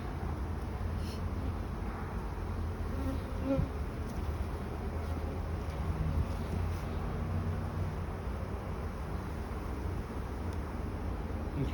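Honey bees buzz steadily around an open hive during a split-cell inspection with virgin queens, a dense, continuous insect drone throughout with no talking.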